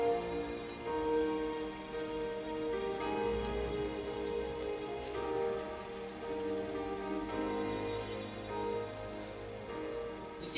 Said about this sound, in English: The rain is moving away slowly.